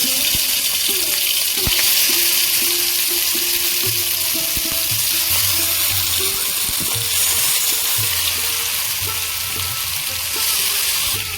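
Hilsa fish frying in a little oil in a nonstick pan, a steady close sizzle and crackle with occasional clinks and scrapes of utensils.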